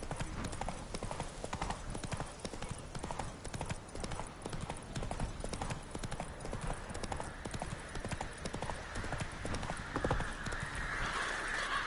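Roach the horse from The Witcher 3 trotting, a steady rapid clip-clop of hooves carrying on continuously at close range, with a brief whinny-like flourish toward the end and faint game sounds beneath.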